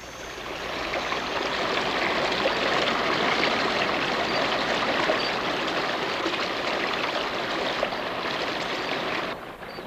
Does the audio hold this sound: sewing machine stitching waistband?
no